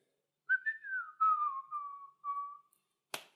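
A person whistles a long, loud tune, the notes sliding and held across several phrases, with a short sharp noise after they stop.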